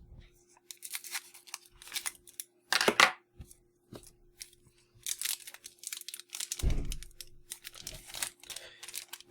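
Trading card booster packs being torn open, with bursts of foil crinkling and ripping in short irregular rounds, close up and alone, separated by quiet pauses.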